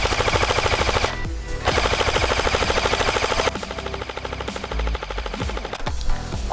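Rapid bursts of automatic gunfire crackle through a battle royale video game match, dense repeated volleys filling most of the stretch with only brief gaps between them.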